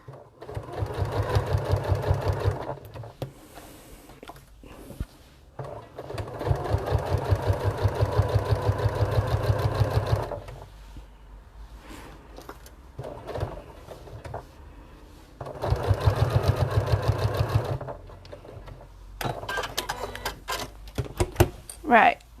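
Sewing machine stitching a fabric bag in bursts of rapid mechanical chatter, three main runs of a few seconds each separated by pauses, close and fairly loud, with quiet handling noises between.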